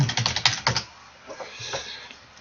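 Quick bursts of keystrokes on a computer keyboard as a username goes into a login page, loud and close at first, then slowing to a few lighter taps.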